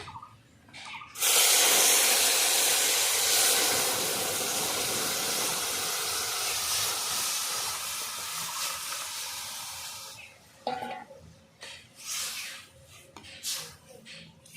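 Dal poured into a hot pan of oil with black mustard seeds and broken chillies for a sour tamarind dal, bursting into a loud, close sizzling hiss that holds for several seconds, then drops to softer intermittent crackles.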